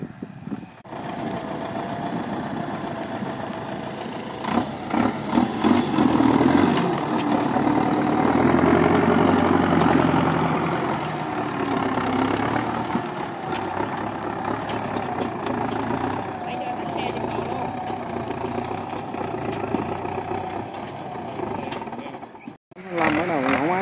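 A Belarus tractor engine starts and runs in a rural field, a loud steady diesel rumble with rhythmic knocking that rises and settles, then cuts out near the end, with someone talking over it.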